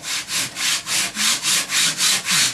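A hand plane is pushed along the edge of a wood strip blocked up on a workbench, giving eight or nine rhythmic, evenly spaced shaving strokes, close and loud, with no voices.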